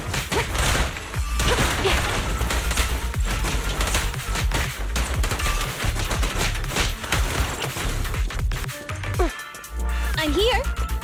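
Rapid bursts of gunfire from the video game Zenless Zone Zero, dense and loud with booming impacts and crashes layered over a busy game soundtrack, dropping briefly near the end before resuming.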